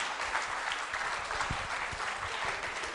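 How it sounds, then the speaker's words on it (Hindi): Steady applause from a school quiz show audience, continuous clapping at moderate level filling the whole moment without letting up, heard from within the hall. "तालियां जोरों से बजाइए विजय जी के लिए"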